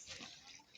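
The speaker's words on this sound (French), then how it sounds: "je rajoute l'eau pour pétrir ma pâte" Water is poured into flour to make bread dough, a brief, faint splashing pour close by, lasting under a second.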